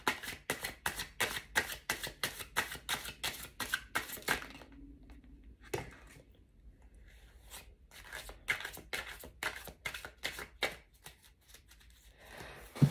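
Tarot cards shuffled by hand in rapid, crisp riffling bursts, with a short pause midway before the brisk flicking resumes, close and fairly quiet.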